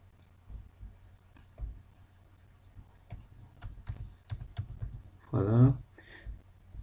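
Scattered clicks on a QWERTY computer keyboard while entering data into an Excel spreadsheet, sparse taps and a few sharp keystrokes, with a brief spoken word partway through and a low background hum.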